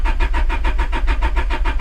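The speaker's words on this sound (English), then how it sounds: "Let's give this a crank, see what happens." A car engine in an abandoned car, freshly fitted with a fuel relay, cranks steadily without firing, the starter churning in a fast, even rhythm, loud and close with no voices.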